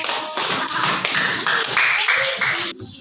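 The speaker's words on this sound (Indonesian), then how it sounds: "tepuk tangan dulu untuk siswa kelas 1" A class of first-grade elementary school pupils claps together in a steady burst of rapid, overlapping hand claps, fairly close and loud, ending abruptly.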